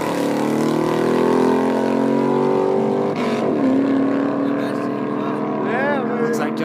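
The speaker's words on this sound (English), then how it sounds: "Here's a F-Body LT1 car, full bolt-ons, exhaust, everything against the bolt-on Mach 1." At a drag race, a Chevrolet F-Body LT1 with full bolt-ons and exhaust runs against a bolt-on Ford Mustang Mach 1, giving a loud, sustained engine roar that shifts pitch as the cars accelerate.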